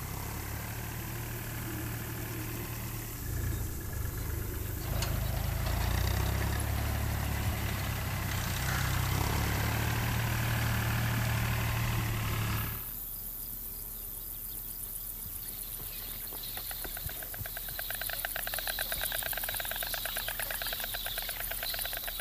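Tractor working a field in the Bohemian Forest, its engine running steadily at a moderate distance, rising to a heavier rumble midway before settling back to a lighter drone with faint insect chirping.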